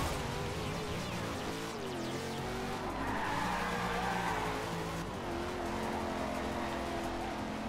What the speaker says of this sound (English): I can hear my engine sputtering.